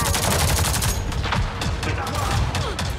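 Weapon fire in Avatar: Frontiers of Pandora, heard as dense, continuous rapid shots with booming low end. The firing sits in a busy game soundscape, with no pause anywhere in the clip.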